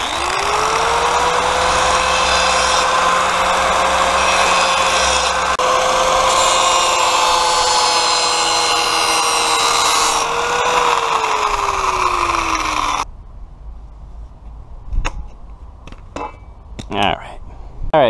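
Power tool, likely an angle grinder, sharpening a lawn mower blade, with a loud, steady high-pitched whine and grinding hiss held for about thirteen seconds before cutting off, followed by faint clicks and handling noises.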